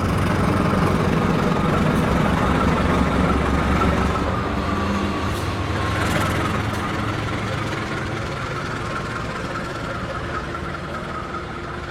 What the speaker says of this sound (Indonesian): Ini ada kereta lokal yang mau berangkat